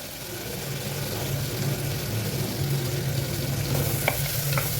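Onions sautéing in a pan for brinjal kadayal as tomatoes and salt go in, giving a steady close sizzle and stirring, with a few sharper clatters of spoon near the end.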